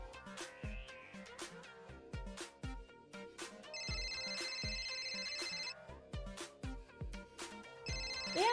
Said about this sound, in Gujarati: તારો ફોન વાગે છે, ઉપાડ.